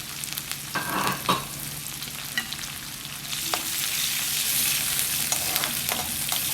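Onions and curry leaves fry in a pan for a potato dish, giving a steady close crackling sizzle with a few sharper pops and stirring scrapes, and no voices.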